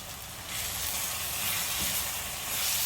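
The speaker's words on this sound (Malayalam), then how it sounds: "2 ടേബിൾ സ്പൂൺ ഇഞ്ചി വെളുത്തുള്ളി ചതച്ചത് ചേർത്ത് കൊടുക്കുന്നുണ്ട്" Crushed ginger and garlic sizzle with tomato and onion in a pan for a Kerala mackerel dish, a steady loud hiss of frying that swells slightly partway through and continues without talk.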